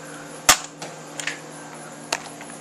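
A modded Recon toy blaster firing a stock foam dart, one sharp pop followed by a few faint clicks and a second smaller snap, with no speech.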